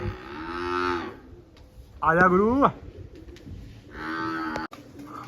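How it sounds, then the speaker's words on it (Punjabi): Deep, drawn-out buffalo bellows sound three times, close and loud, while a man briefly calls out between them. "ਮੈਸਾਂ ਵੀ ਰਿੰਗਣ ਲੱਗ ਜਾਂਦੀਆਂ"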